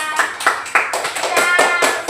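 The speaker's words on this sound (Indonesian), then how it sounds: "Oke, tepuk tangan." Students in a Grade 5 classroom clap together in a quick, uneven burst of applause lasting a couple of seconds, close and moderately loud.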